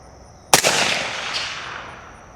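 A single rifle shot fired by a shooter using a thermal scope cracks sharply and loudly, then rolls away in a long echoing decay that fades over about two seconds, with no talk around it.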